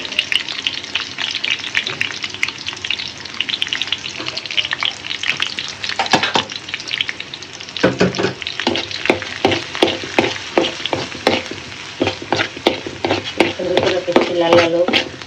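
Garlic cloves and fish pieces frying in hot oil for a khichuri and chicken bhuna meal, a steady sizzle broken by repeated scraping stirs and clatter that grows busier toward the end.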